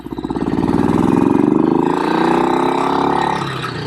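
A BSA Victor Special 441 classic long-stroke single-cylinder motorcycle thumps along up close while being ridden, its pulsing exhaust beat rising in pitch through acceleration, then easing and dropping off toward the end.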